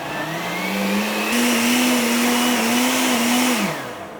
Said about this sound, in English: All right, one more time on the blender.